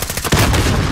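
A C4 blast in Call of Duty: Warzone, one sudden loud explosive burst that hits near the middle and rolls into a dense, sustained rumbling tail.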